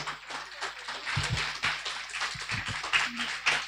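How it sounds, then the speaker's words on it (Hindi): An audience at a Mother's Day celebration in Delhi claps in honour of mothers: irregular, moderately loud bursts of hand claps from a roomful of people, close by and without speech over them. "सभी भाई एक बार खड़े हो जाएं और दिल से ताली बजाएंगे माताओं के सम्मान में"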